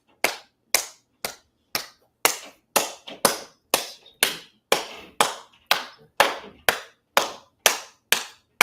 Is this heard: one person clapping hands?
yes